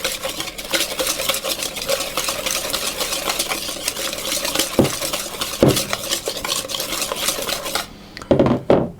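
Egg is mixed into apple butter and sultana muffin batter in a bowl, a continuous brisk stirring and scraping with occasional sharper knocks of the utensil against the bowl, close up, ending in a brief pause.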